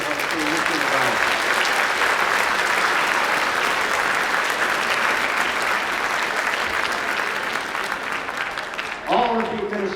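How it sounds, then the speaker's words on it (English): Sustained audience applause fills a middle school band spring concert hall for about nine seconds, steady and dense, with a voice speaking briefly at the very end. "Can we give a huge round of applause to the leader of our school, Mr. Lavelle?"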